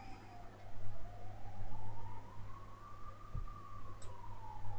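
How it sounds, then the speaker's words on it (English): An ambulance siren wails in a slow rising and falling tone, steady at middle distance over a low constant hum, with a brief knock near the end. "Got serious ambulance sounds."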